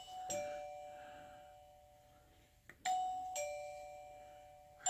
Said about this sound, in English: Govee wireless doorbells